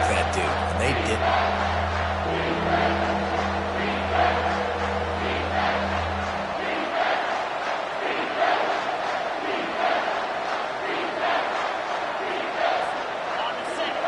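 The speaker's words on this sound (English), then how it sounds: "The crowd getting behind this defense as they try to get a stop in the red zone." A large football stadium crowd roars steadily to back the defense in the red zone, a dense sustained wall of cheering and shouting with a low engine-like hum under the first half.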